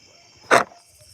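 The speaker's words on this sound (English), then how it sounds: "it's a big ass dog loose" A big loose dog gives a single short, sharp bark outdoors, loud and alone, with faint background noise before and after.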